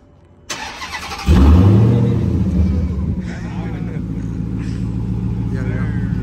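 A Dodge Hellcat cranks and fires after a short quiet lead-in, its engine catching with a loud rising swell and then settling into a strong, close, continuous rumble. Voices can be heard faintly over the running engine.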